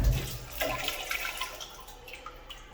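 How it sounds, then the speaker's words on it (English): Water hissing and trickling from a Sloan toilet vacuum breaker assembly as it is removed, a soft close rush that fades steadily over a few seconds. "And they'll leak water once you take this out."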